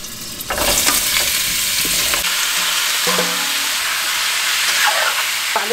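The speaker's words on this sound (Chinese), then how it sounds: "开始煸那肉，少放点油" Pork belly stir-fried in a small amount of oil for red-braised pork, sizzling loudly and steadily in the pan with occasional scrapes and clinks of the spatula.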